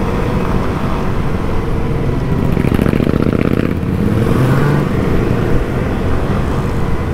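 A group of motorcycles riding slowly in a city parade, their engines making a dense, loud, continuous rumble close by, with one bike's revving swelling briefly in the middle.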